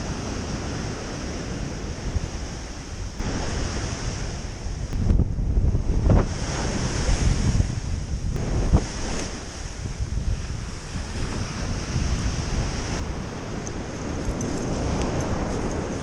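Ocean surf rolls and breaks steadily on a beach during striper fishing, a continuous loud wash with repeated crashing swells and gusts of wind buffeting the microphone, no voices.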